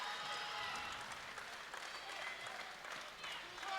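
Crowd at a women's 52 kg powerlifting world championship applauding and cheering, a dense sustained roar of clapping that stays loud and even throughout, with no clear voices standing out.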